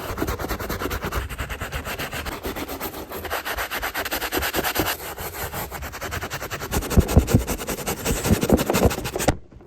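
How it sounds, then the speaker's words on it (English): A bristle brush stirs and scrubs a baking soda cleaning solution during shoe restoration, making a steady, close, rough scrubbing that continues without a break for nearly ten seconds. "I have a bristle brush, and I'm gonna use this to stir up the"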